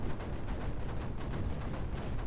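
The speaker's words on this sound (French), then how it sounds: "Voilà, les canons tirent plus vite." Cannons firing in the strategy game Creeper World 4, a dense, steady barrage of rapid booming shots that runs on without a break for the whole stretch, loud and continuous with no talk over it.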